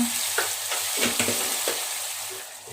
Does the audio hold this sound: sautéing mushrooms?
yes